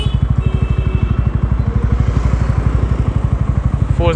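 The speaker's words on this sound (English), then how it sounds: "First gear, you can just go along." A TVS Ronin 225 motorcycle rolls along in first gear with no throttle, its single-cylinder engine thumping in a steady, rapid pulse close to the mic, with a brief voice rising near the end.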